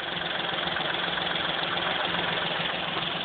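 A Suzuki Alto car engine idling, a steady smooth low hum with a faint even vibration, heard close and alone without any talking.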